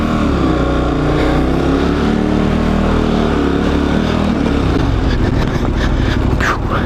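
A loud, close adventure motorcycle engine runs steadily as the rider walks the bike alongside through deep sand. The engine note rises and falls a little, with rough, gritty texture toward the end.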